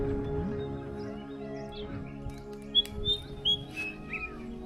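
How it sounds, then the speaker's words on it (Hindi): Birds call near a forest pond, where a common hoopoe is present; several short, high chirps and tweets stand out over a steady low rumble of background noise, fairly faint and spaced apart. "इस आम पाए जाने वाले पक्षी का नाम हूपो है, जिसे हिंदी में हुदहुद कहा जाता है।"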